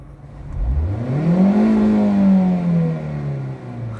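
A Honda Brio's engine revs up close, the pitch climbing smoothly to a peak, holding near redline, then sliding back down toward idle, loud and steady with no talk.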